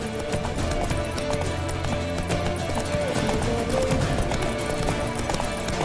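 Roach the horse galloping in Witcher 3, a steady rapid drum of hoofbeats under a busy game soundscape, with a brief whinny-like tone partway through.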